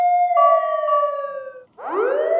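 A loud electronic siren wails in steady tones, then breaks off briefly and restarts with a rising sweep, like a toy fire truck.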